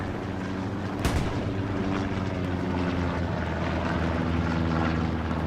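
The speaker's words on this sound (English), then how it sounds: "Recon plane going out." A recon plane passing overhead in the World War II shooter Hell Let Loose, on the Omaha Beach map, heard as a steady propeller-engine drone alongside a sharp distant gunshot or blast, with no talking.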